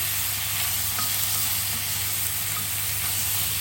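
A pan on reasonably high heat gives off a loud, continuous, even sizzle and hiss, close and unbroken from start to end, with no voices.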